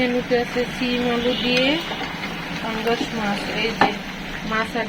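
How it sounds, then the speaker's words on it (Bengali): Food is sautéed in a pan with a steady sizzle and occasional scraping stirs, while someone talks over the cooking. "ভেজে এখন কষাচ্ছি"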